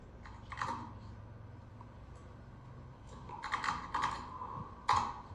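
Code for a snake water gun game in C typed on a computer keyboard: an early keystroke, then a clustered run of clacking keys and a final hard tap, close and moderately loud, with no talking.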